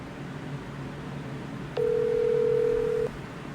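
A steady telephone dial tone sounds for about a second and a half while a call is placed back, standing out clearly over a low background hum.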